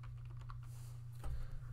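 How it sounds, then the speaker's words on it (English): Quick keystrokes on a computer keyboard as a search is typed in, faint clicks over a low steady hum, with a slightly louder cluster of taps near the end. "put Control F and then you can type up here"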